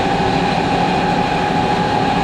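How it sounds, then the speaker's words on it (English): A dinghy davit system on a sailing boat runs with a loud, continuous mechanical grinding drone, steady throughout with no speech. "the loudest dinghy davit system that I've ever heard. It makes so much noise."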